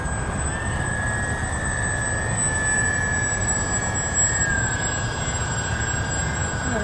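A Canadair CL-415 amphibious aircraft flies on its maiden flight, heard as a continuous, fairly distant engine drone with a steady high whine that shifts slightly in pitch as it moves.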